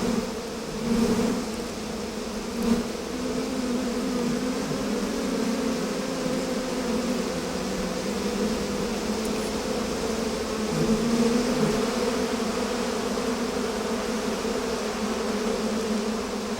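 Bees swarm around a wild honeybee hive, their dense, steady buzzing filling the air close by without a break, with the pitch swelling and easing slightly as the insects move.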